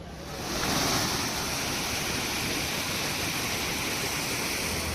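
Floodwater rushes over roads after heavy monsoon rain in the Porbandar area of Gujarat, a loud, steady, broadband roar of flowing water that holds constant from start to finish with no voices.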